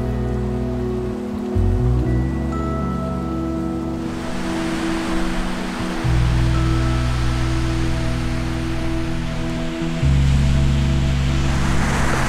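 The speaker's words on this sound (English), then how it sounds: "This has got to be the whitest sand beach I've ever seen." Waves on a white sand beach on Bruny Island, Tasmania, a loud broad surf wash that swells and recedes in rolling surges, heard alone over a low steady rumble.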